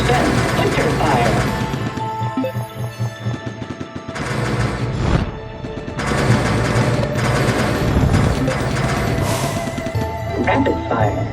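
Rapid automatic gunfire in a robot shooter video game, loud bursts of machine-gun fire in clustered volleys with brief pauses between them, crashing impacts mixed in.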